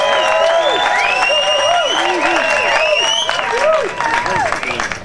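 At the 2008 Nimbin MardiGrass parade, a crowd applauds and cheers for a float with dense clapping, whoops and mixed voices that fade near the end.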